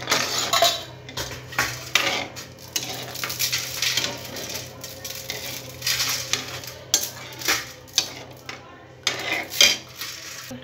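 Potatoes in a pan being mixed with Maggi masala seasoning, a spoon scraping and clinking against metal in repeated uneven strokes, close and fairly loud, with a faint sizzle underneath.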